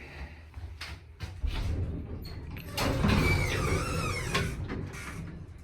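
Sliding doors of a Dover hydraulic elevator, modernized by KONE, in a department store rumble open and shut with clunks and a mechanical whir, followed by a soft rising whine as the panels glide, fairly close.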